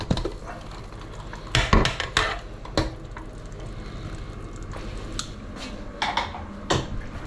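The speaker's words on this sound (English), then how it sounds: "I can open the pressure cooker." A pressure cooker holding beans is opened once its pressure is gone, with a few loud metallic clanks and knocks of the lid and pot in clusters, separated by quiet stretches of faint background noise.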